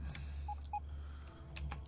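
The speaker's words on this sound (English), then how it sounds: "And there goes the phone off because I forgot to put it on silent again." A mobile phone goes off with two faint, short electronic tones over a low steady hum.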